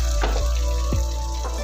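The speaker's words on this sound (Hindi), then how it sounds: "अब मैं इसमें ये प्याज और रेड मिर्चों का जीरे का भिगार दिया।" Hot tempering of onion, red chilli and cumin poured over daal gosht sizzles and fizzes steadily, with a few bubbling pops rising through a loud, close frying hiss.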